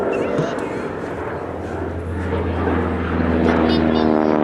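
Aerobatic propeller aircraft manoeuvring through a turn at the Woodchurch air show with smoke on, a steady loud engine drone that rises in pitch toward the end, with a commentator talking over it.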